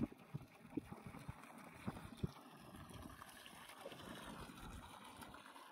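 Water pours from a running DC solar submersible pump in a steady, low gurgling flow, faint and continuous, with a few soft knocks near the start.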